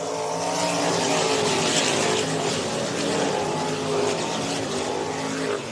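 Race cars at an Underwood feature race roar together on the green flag, a dense continuous pack of engines at full throttle, loud and steady with no talk.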